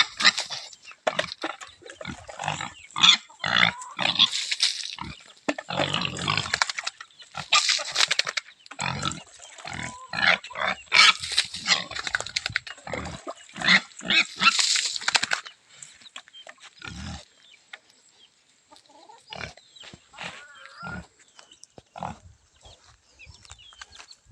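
Pigs grunt and squeal repeatedly in a busy, overlapping chorus, loud and close, then thin out to scattered grunts toward the end.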